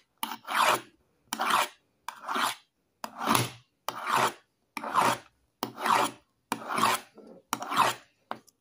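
A knife blade is stroked along a sharpening steel in a steady rhythm of about nine evenly spaced, rasping scrapes, each under a second long with short silences between. The strokes are close and clear, with no talking.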